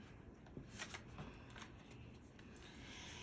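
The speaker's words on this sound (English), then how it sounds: "And if I can even shuffle, I got cards falling." Tarot cards being shuffled by hand give a quiet, close riffling and flicking sound in a few short bursts, with no talking.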